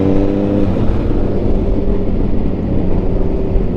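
A sports motorcycle idles and rides along on a group ride near Batangas City SM, its engine a loud, steady low-pitched rumble with a slight rise in pitch midway, continuous and close with no talk over it.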